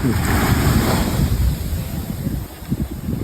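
Indian Ocean surf breaks on the Sri Lanka coast, a broad steady wash of waves with wind noise on the microphone, loud and close, easing slightly toward the end with no voices.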